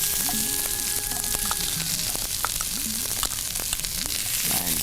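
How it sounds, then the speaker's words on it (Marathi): Diced onion sautéing in a hot pan for a green peas vegetable salad, a steady close sizzle with scraping stirs throughout, no voices. "आता थोडासा कांदा लालसर होईपर्यंत आपल्याला परतून घ्यायचा"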